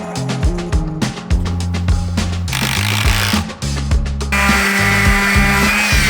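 A power drill drives pocket screws into a wooden kitchen cabinet frame for a school-bus conversion, with loud close bursts of whirring motor that start and stop repeatedly and end in a long sustained run.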